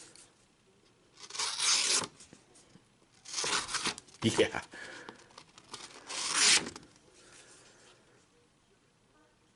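A Gerber STL 2.0 pocket knife slices through heavy duty stock paper in three or four close, raspy tearing strokes separated by pauses, with a brief spoken word in between.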